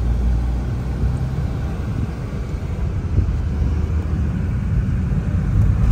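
Steady low road rumble and wind roar inside a car driving smoothly along an Australian road, a continuous even drone with no voices.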